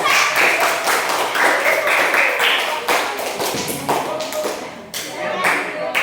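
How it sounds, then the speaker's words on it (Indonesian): Students in a geography class clap together, a dense patter of many hands lasting several seconds with a few louder thumps, voices audible faintly beneath it. "Kalau nggak ada berikan aplaus."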